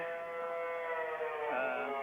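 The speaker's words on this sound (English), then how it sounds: "cup the phone just a little bit so that maybe we can block out a little bit of that siren noise" An outdoor civil defense siren during a severe weather warning in Oklahoma, heard close by over a phone line as a steady wailing tone that shifts pitch near the end, loud and continuous throughout.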